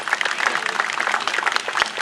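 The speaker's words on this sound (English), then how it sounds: "give this man a round of applause" Steady, close audience applause at the 2023 Orphan Car Show, a dense crackle of many hands clapping continuously throughout.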